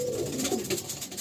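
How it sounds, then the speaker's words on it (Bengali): Breeder Shokh pigeons in a loft at Dakhineswar give soft, rolling coos in a short burst, close and moderately loud, with no voices over them. "অ্যাক্টিভ দেখুন কেমন পায়রা।"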